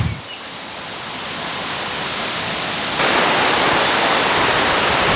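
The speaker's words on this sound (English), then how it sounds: "I made it to Minnehaha Falls" Minnehaha Falls in Minneapolis pours as a steady broadband roar of falling water, loud and close, growing stronger partway through with no voices.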